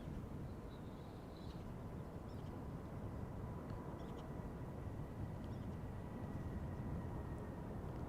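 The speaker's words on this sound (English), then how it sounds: "we have an A321neo to Atirau taking off from the center runway in the meantime" An Airbus A321neo takes off from the center runway at Amsterdam Schiphol Airport, a steady, broad jet roar heard from a distance that holds evenly throughout, with no voices.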